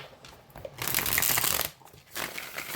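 A tarot deck with flexible, shuffleable cardstock is riffled twice close up, each shuffle a crisp rushing flutter of cards separated by a short pause.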